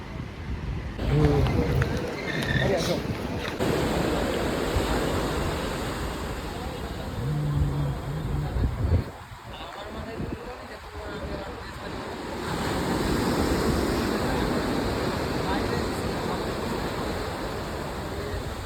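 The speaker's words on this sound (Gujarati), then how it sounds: "મસ્ત શાંતિથી દરિયાનો અવાજ આવે છે" Ocean surf along Mumbai's Marine Drive at night, a steady broadband wash of waves mixed with wind buffeting the microphone, holding fairly loud throughout with a brief dip midway and some faint background noise.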